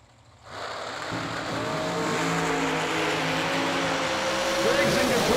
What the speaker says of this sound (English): 452 for the blown dragster of Alan Glatt.